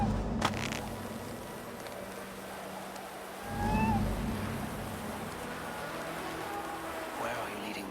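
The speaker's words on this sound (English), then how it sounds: "Who put you up here, little cat?" A small cat meows a few times in the video game Assassin's Creed Valhalla, brief high calls over steady rain and ambient game sound, with a low rumble partway through.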